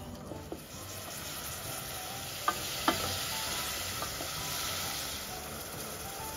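Prawns and potatoes stirred in a sizzling pan, a steady frying hiss with a couple of sharp utensil scrapes partway through, close and moderately loud, no voices.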